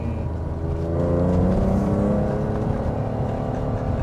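A BMW M635 CSi engine revs up, its pitch climbing and holding in a loud, throaty roar before easing off slightly, close by and with no talking.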